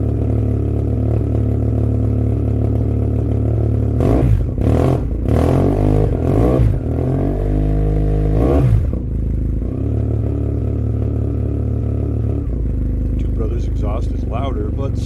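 A motorcycle fitted with a Two Brothers M2 carbon fiber canister exhaust idles loudly and steadily, with several sharp throttle blips in the middle and a deep rumbling drone returning afterward.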